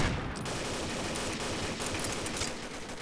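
Rapid, dense bursts of pistol fire from a first-person shooter video game, sustained and loud for the whole stretch with no pause or speech.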